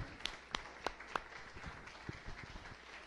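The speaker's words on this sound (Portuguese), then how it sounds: "Pode aplaudir quem entendeu." A church congregation gives faint, scattered applause, a few sharp individual claps at first, then softer, sparse clapping fading out.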